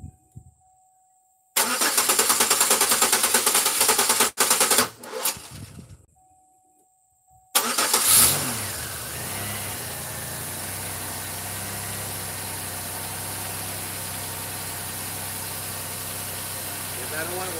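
Bursts of noise give way to an engine starting, then a steady idle with a persistent rattling clatter underneath.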